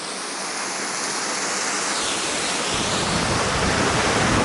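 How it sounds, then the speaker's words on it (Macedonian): Mountain stream cascading down a series of small waterfalls at Laki Potok on Pelister, Macedonia, a steady dense roar of rushing water that swells slightly louder toward the end, with no voices. "водопадите таму, овде помали водопади, уба каскада"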